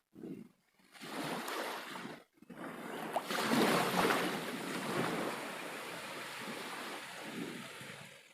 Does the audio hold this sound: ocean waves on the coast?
yes